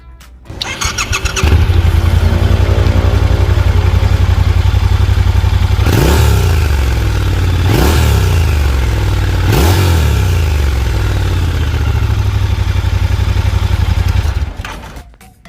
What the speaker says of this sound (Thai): เดี๋ยวลองฟังเสียงรถตอนสตาร์ทกันดูนะครับ